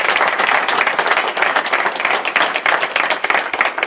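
Dense, sustained applause from a crowd at a COJEP political conference, loud and steady throughout with no break, the many hands blending into a continuous roar.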